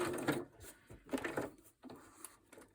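A domestic sewing machine runs in short bursts, stitching for a moment, stopping, then starting again, fairly quiet and close in a craft session.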